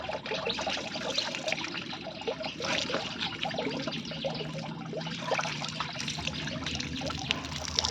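Water runs and trickles steadily as leaves are rinsed by hand, a close, continuous splashing flow with small irregular splashes throughout.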